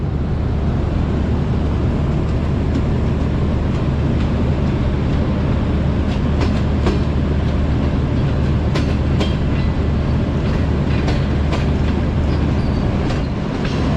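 A train running through Lala Musa Junction makes a steady, loud rumble with rail clatter for the whole stretch, and brief high squeals and clicks from the wheels rise over it in the second half. Nobody speaks.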